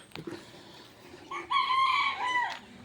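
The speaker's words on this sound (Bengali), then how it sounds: "এদের এই মুরগিগুলো এগুলো আদিবাসী পাড়া এলে কিন্তু এখানে প্রচুর পরিমাণে মুরগি দেখতে পাওয়া যায়" Chickens in a tribal village in Birbhum: a rooster crows loudly and close, a drawn-out cock-a-doodle-doo in the latter half, preceded by scattered clucks and faint background noise.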